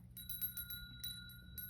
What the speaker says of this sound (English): Use my bell.